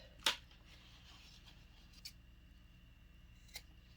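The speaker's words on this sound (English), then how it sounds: "just snip it off with a better pair of scissors" Scissors make a sharp snip through fabric near the start, then two softer snips follow at intervals against a quiet background.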